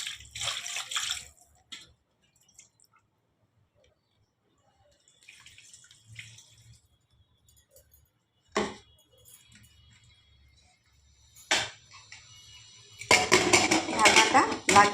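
Jackfruit pieces for a rich korma are rinsed and topped up with water in a pressure cooker pot: scattered metallic clinks and clatters of cookware separated by quiet gaps, then a loud rush of running water at the end.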